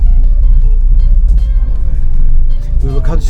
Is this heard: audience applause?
no